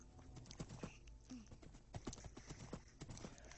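Horse hooves clip-clop in an irregular, quick series of sharp knocks, fairly close and clear, with a faint squeal in the middle and no speech over them.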